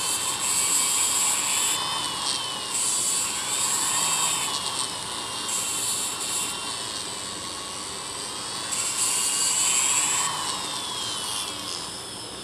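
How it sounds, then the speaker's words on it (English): A flexible shaft handpiece fitted with a fine diamond disc grinds a chamfer onto the ends of small 1/16-inch carbide pins, giving a steady high-pitched whine with gentle rises and falls that carries throughout at moderate loudness. "I have a real fine diamond disc in my flexible shaft handpiece here, and I'm just spinning these with my fingers and chamfering the ends"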